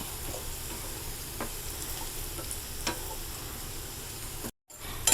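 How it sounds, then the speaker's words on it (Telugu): Grated radish fries and sizzles in a pan for a chutney, a steady crackling hiss broken by a few faint stirring clicks and one brief dropout near the end. "ఇలాగా రెండు మూడు నిమిషాలు వేపుకోవాలండి ముల్లంగి పచ్చివాసన బాగా పోవాలి"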